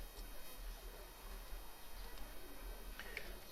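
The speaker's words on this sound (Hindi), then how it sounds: "ये हमारे प्रवासी कबूतर हैं।" Pigeons on a rooftop loft at Sadiqabad, migratory flying birds kept by a breeder, give faint soft coos under a steady low hum and background hiss.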